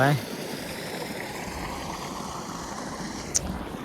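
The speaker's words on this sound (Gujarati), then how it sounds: "ખાલી આ પાણીનો અવાજ આવે છે" Water from a farm pump pours and gushes continuously in a quiet green countryside, a steady close rush with a faint bird chirp near the end.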